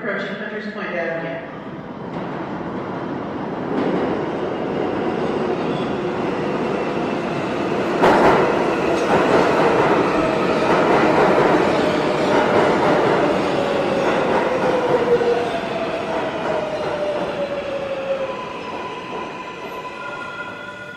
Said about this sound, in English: A Manhattan Bound 7 train approaching Hunters Point Avenue.